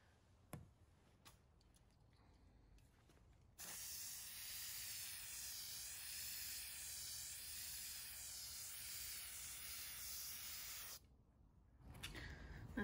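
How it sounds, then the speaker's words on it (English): A spray adhesive can, held upside down to clear it, lets out one long loud steady hiss of about seven seconds, preceded and followed by quiet handling ticks and clicks. "if you will actually spray this upside down for a brief second, it helps clear it"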